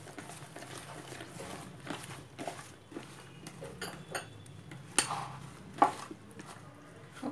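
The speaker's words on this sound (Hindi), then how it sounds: "अब हम इन सबको अच्छी तरह से मिक्स कर देंगे।" Spiced potato pakora ingredients with dried fenugreek are mixed by hand in a bowl, giving soft, faint squelching and rustling with a few light clinks against the dish.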